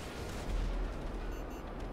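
Cannon fire in a multiplayer video game, a heavy low boom swelling midway through a dense, rumbling stretch of game noise, with no talk.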